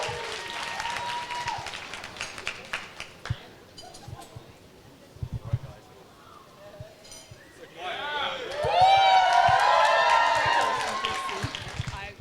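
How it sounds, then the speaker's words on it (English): Wedding guests applaud a newly married couple about to give a speech, with scattered clapping and voices that swell into a fuller, louder round of applause toward the end. "So give them some applause."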